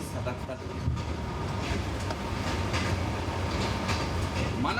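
Rumbling interior of a moving train in Mongolia, heard from a cramped kitchen car on a wobbling carriage: a steady low roar with faint rhythmic clatter running throughout, and people talking beneath it.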